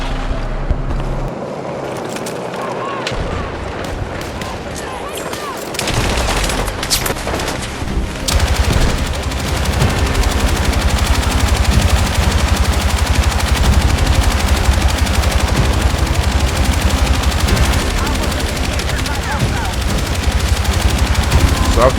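Loud, sustained machine gun fire in the Battlefield 6 video game, a dense rattling stream of shots layered over deep engine rumble and battlefield noise that begins after a short quieter lead-in.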